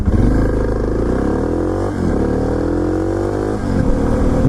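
A Suzuki DR650 single-cylinder motorcycle revs hard while riding, loud and close, pitch climbing through gears with brief dips at each shift.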